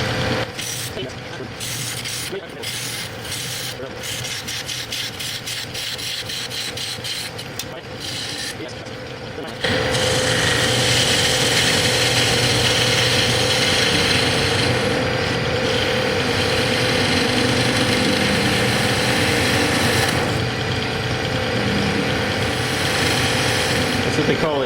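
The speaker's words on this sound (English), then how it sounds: "I'm going to switch up to my large gouge, do some roughing out." A large gouge roughs out a giant wooden chess king on a wood lathe, a close, loud continuous rasping scrape over the motor's hum, with choppy bursts early on before the cut settles into a steadier, louder grind.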